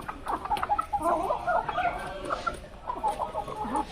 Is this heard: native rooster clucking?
yes